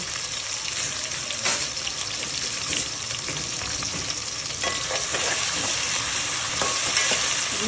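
Thinly sliced onion, cumin seeds and long-cut green chillies fry in oil in a wok, a steady loud sizzle running throughout with occasional scraping stirs and spatters, and no voices.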